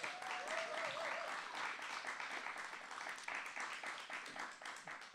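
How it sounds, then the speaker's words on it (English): An audience at an open mic night claps in a sustained, even burst of applause, with a faint brief tone near the start. The recording is quiet overall. "could I get a round of applause for the Conspiracy of Noise and all of the acts that have performed so far?"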